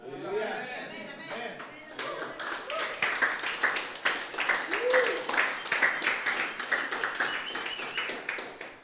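Congregation clapping during a church Bible teaching session, rhythmic hand claps building into steady applause amid voices and some laughter.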